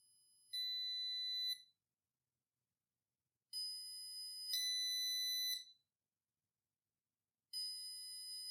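A shrill, high-pitched Arduino-driven electronic buzzer tone, potentiometer at maximum, sounds in three separate bursts of about a second each, with silence between them.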